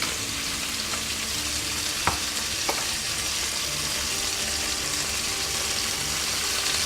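Seasoned beef fillet steak laid seasoned side down in a pan of hot olive oil, a loud steady sizzle with a couple of brief knocks, continuous and close, with no speech.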